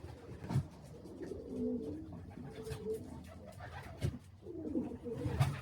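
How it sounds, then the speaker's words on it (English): A pigeon hen gives soft, low, rolling coos at close range in a loft, several repeated phrases over faint background noise and a few light knocks. "That hen there is a national pigeon."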